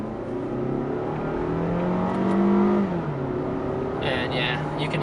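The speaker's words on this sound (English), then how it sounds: "you can hear it is a 4-cylinder, so it is very gas and economical" A 2015 Toyota RAV4's four-cylinder engine accelerates in sport mode, a steady rising drone heard from inside the cabin with a faint pitch shift partway through.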